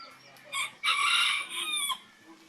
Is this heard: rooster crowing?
yes